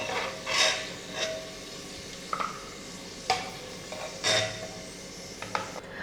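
Fried cashews and raisins are scooped from hot oil in a pan, with several scraping strokes of a spoon against the pan over a faint sizzle, and no talk.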